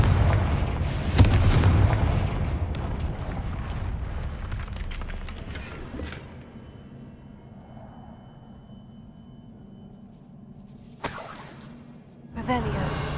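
Explosion from the Confringo spell in a Harry Potter video game: a loud booming blast that decays over several seconds, then quieter rumble and a second sharp burst near the end, with speech around it.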